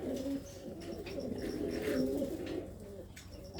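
Low, throaty cooing of several Malwa pigeons close by, overlapping in soft repeated phrases with faint background noise.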